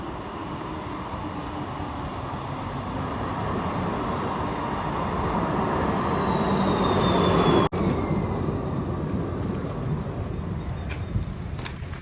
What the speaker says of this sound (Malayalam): നമ്മുടെ ട്രാം അതാ വരുന്നുണ്ട്.